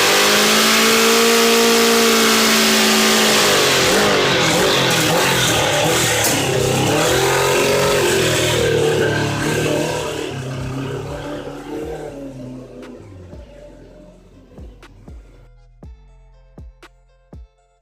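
A Suzuki Katana motorcycle engine runs and revs loudly up close, pulsing through several throttle swells before fading away into the distance, leaving a few sharp, faint ticks at the end.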